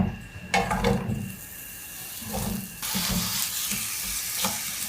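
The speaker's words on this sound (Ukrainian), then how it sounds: "Тепер потрібно підсмажити цибулю." Steady frying sizzle of onion in sunflower oil in a pan, growing louder partway through, with occasional scraping and stirring of a utensil close by.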